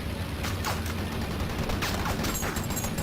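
Rapid bursts of video-game gunfire from a plane shooting at the Red Baron's aircraft in Thrillville: Off the Rails, crackling repeatedly over a steady engine-like drone for about three seconds.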